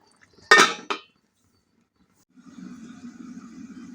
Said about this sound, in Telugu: మూత పెట్టేసుకుందాం.